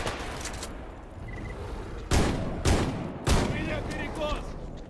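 Gunfire in the video game S.T.A.L.K.E.R. GAMMA: three loud, sharp shots spaced about half a second apart stand out over a busy background of game noise, with voices shouting nearby.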